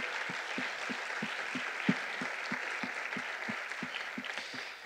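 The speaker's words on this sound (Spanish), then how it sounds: "Un aplauso, por favor, para usted." A room full of people applauds steadily, with a regular clapping rhythm standing out over the dense patter, fading slightly at the end.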